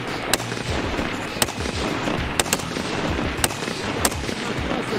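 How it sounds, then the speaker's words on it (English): Rifle shots at a Swiss sniper competition ring out as about six sharp cracks at irregular intervals, standing out over a continuous noisy background. "I feel like he's shooting kind of fast"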